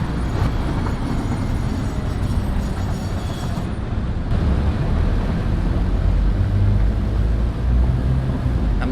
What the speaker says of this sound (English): That must be the trains coming in.